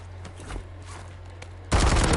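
Enemy gunfire in Warzone's Verdansk map: faint distant taps and shuffling game sounds give way to a sudden loud, sustained burst of rapid automatic fire near the end.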